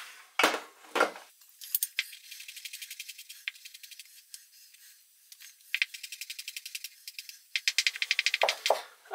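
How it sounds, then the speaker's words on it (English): A knife chops fresh garlic on a board for meatloaf, quick bursts of rapid, rhythmic tapping strokes separated by short pauses, close and fairly quiet with no talk. "the next thing I want to do is chop up my garlic"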